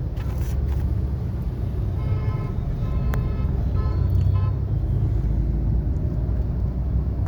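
A car moves off after the clutch is released during a driving lesson, giving a steady low engine and road rumble throughout with faint intermittent tones, heard from inside the cabin.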